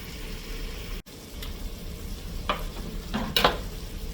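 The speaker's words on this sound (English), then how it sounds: "So I'll cut that whole head of cabbage up and put it in to saute." Chopped head of cabbage sautéing in butter with sausage over medium-low heat, giving a steady close sizzle with scraping stirs that grow louder toward the end.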